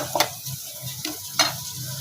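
Tempering spices sizzling in a pan for a home-cooked potato vegetable dish, a soft steady crackle with a few brief stirring scrapes, close and fairly quiet.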